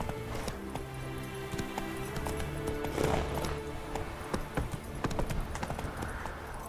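Roach the horse gallops in The Witcher 3, quick rhythmic hoofbeats close and continuous for several seconds over game music and ambience, with faint voices now and then.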